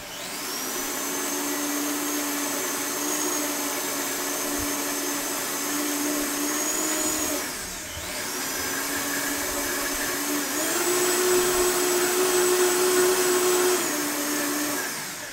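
A countertop blender whirs a carob and mint smoothie in a loud, steady motor roar for about fifteen seconds, briefly dipping in pitch midway and then surging higher before settling again.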